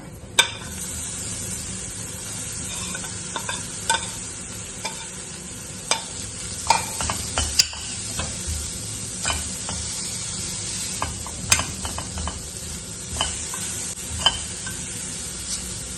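Green chilli, shallots, turmeric and coconut sautéing in a pan, with a steady hiss of frying and regular spatula clicks and scrapes against the metal throughout.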